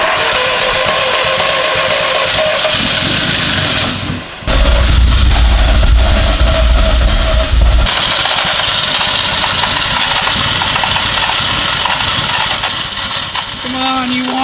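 A VW 1.8T engine swapped into a BMW E36 cranks and catches around the four-second mark, a loud low rumble holding for a few seconds before settling into a steady close idle, with voices talking over it throughout.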